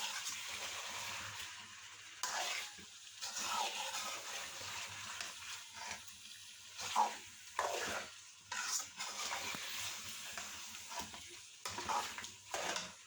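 Four large onions frying and being stirred in a pot for chicken qorma, a soft continuous sizzle under repeated scraping stirs and occasional clinks of spoon against metal, with no speech.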